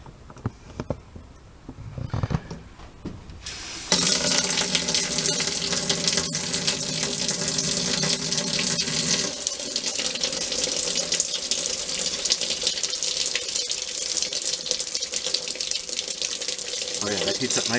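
Hot shower water from a DSK-65 water heater, a loud, steady hissing rush that starts abruptly after a few seconds of quieter handling noise and runs continuously to the end.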